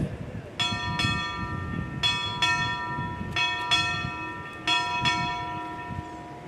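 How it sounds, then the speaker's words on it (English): A ship's bell is struck eight times at a naval change of command ceremony, rung in four evenly spaced pairs, each ringing tone sustaining and fading before the next double strike. "Tom Worley, strike 8 bells."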